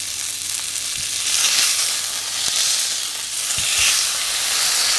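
A duck breast fries skin-down in a pan, a steady bright sizzle and crackle holding level throughout, with a few soft low knocks of the pan now and then.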